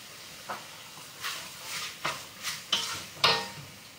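A spoon stirs a lamb sauté in a pan over low heat, making quiet, irregular scrapes and light hissy strokes about every half second, growing slightly louder toward the end.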